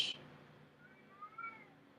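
A house cat meows faintly in a quiet room, two soft rising calls following a brief sharp noise at the start.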